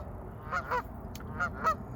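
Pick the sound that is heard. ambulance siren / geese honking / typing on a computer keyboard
geese honking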